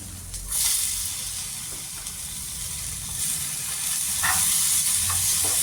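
Tomatoes with ginger and garlic sautéing in a pan for a green pea dish, giving a loud, continuous hissing sizzle with occasional soft stirring scrapes, close up and without talk.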